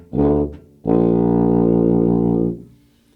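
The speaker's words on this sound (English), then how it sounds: "This is the tuba." A tuba sounds low notes from the bottom of a scale: one short, round, buzzy tone, a brief gap, then a longer sustained low note held for nearly two seconds before it fades, close and unaccompanied.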